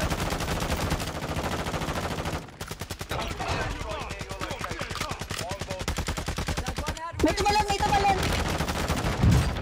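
Rapid gunfire and blasts in a shooter game during an airstrike, dense repeated bursts lasting nearly the whole stretch with brief gaps, loud and close, with a player talking over parts of it.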